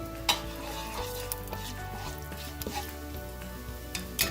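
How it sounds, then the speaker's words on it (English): Fennel seeds hit hot oil in a wok just emptied of fried cashews, crackling in a close, steady sizzle broken by sharp metallic taps and clicks, with no voices. "we're going to add the fennel seeds into the same oil."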